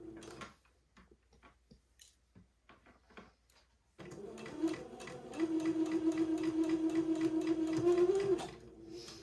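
Sewing machine stitching 1/8 inch along the front facing edge of a baby's heirloom gown, starting with a few soft clicks and then running steadily for several seconds with a sustained motor whine, near and alone.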